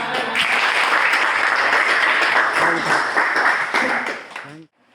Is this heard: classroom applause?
yes